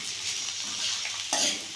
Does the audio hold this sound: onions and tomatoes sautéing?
yes